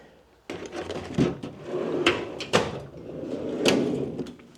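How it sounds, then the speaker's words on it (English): A drawer is pulled open with a sliding rumble and several clunks and knocks, close by, with no talking. "Going into the bottom drawer"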